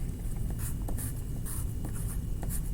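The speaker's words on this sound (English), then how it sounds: "Black colored pencil, no. Make some lines." A black colored pencil drawing lines on paper, a series of quick, close scratchy strokes in an uneven rhythm over a steady background hiss, with no talking.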